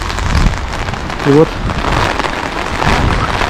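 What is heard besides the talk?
rain falling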